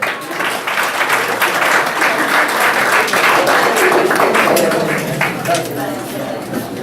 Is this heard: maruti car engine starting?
no